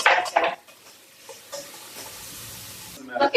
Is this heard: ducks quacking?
no